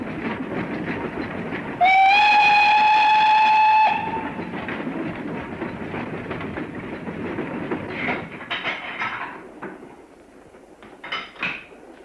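A train runs along a single-track Great Western branch line, rumbling and clattering close by, with a sustained whistle blast early on and wheel clicks and knocks fading toward the end.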